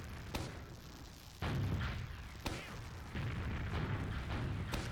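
Bursts of soldier bombs exploding in an esports video game match at a live event, heard as sharp thumps and booming blasts over a dense, noisy background of game sound and crowd.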